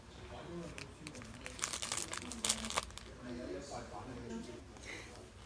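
Tape is peeled from packaging during an unboxing, making crinkling and tearing noises that rise in a short cluster near the middle, fairly quiet and close, under a person speaking.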